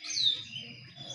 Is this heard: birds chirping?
yes